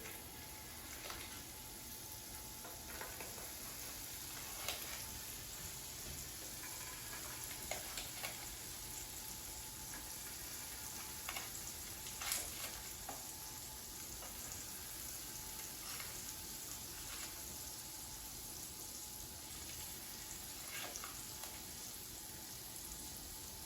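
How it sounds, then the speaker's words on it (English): Butter sizzles steadily on a hot griddle while melting for Swedish pancakes, a soft continuous crackle with occasional louder pops, heard alone at a modest level. "once the butter is melted, just distribute it to evenly coat your griddle or frying pan"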